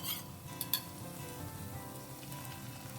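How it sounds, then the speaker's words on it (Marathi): Chilli chicken sausages frying in a pan as a cornflour mixture goes in: a low, steady sizzle with a few sharp clinks near the start, close and fairly quiet, and no voices. "आता कॉर्नफ्लावर मिक्सचर हितून घालपाचें"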